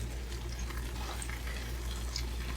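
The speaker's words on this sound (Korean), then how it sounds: "또다시 지글지글 소리가 나오잖아요." Seasoned dried squid strips sizzle and fry in a hot pan, a steady close crackle with small pops scattered over a low constant hiss, with no voices.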